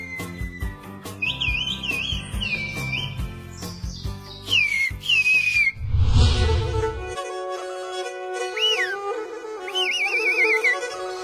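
A shepherd whistles in a whistled language used to herd and call sheep, a series of loud, close, piercing tones that rise, fall and trill, with background music and a burst of rumbling noise partway through.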